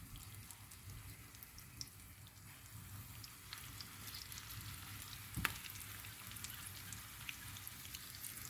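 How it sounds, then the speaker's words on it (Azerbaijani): Small blini fry in hot oil in a pan with a quiet, continuous crackling sizzle and one brief clatter midway, faint and without voices. "Yağımız tam qızdıqdan sonra bilincikləri əlavə edirik."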